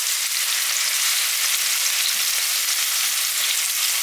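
Chicken pieces for korma fry in hot oil with spices, giving a dense, steady sizzle that stays loud and even from start to finish with no voices.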